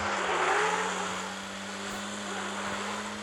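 A mid-pitched truck engine in the video game Truck Simulator Ultimate hums steadily with a slight rise early on, revving as the truck drifts, fairly loud and continuous with no voices.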